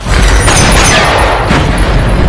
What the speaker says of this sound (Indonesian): Barry menembaki Mike dan Leandra.